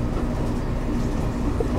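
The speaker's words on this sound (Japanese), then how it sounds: "快速列車の花火です。" The Hanabi rapid train at a platform in Tobata, Kitakyushu, gives a close, steady rail rumble with faint clickety-clack, and no voices are heard.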